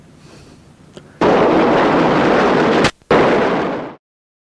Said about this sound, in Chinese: 多人受伤、方圆42公顷的住宅被摧毁的特大爆炸